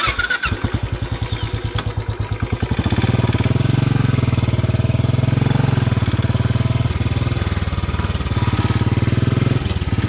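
A Royal Enfield Classic 500 motorcycle engine thumps in quick, distinct beats, then settles into a loud, steady, close-up drone that holds for several seconds with no talking.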